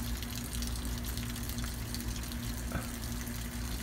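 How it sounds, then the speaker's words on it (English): Water flowing weakly out of a Ryobi 2900 PSI 2.3 GPM gas pressure washer as air is purged, a steady, even gushing wash with a low mechanical hum underneath, moderately close and without speech. "now we got water flowing out of that thing"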